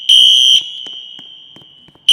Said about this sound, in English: Women's bathroom fire alarm.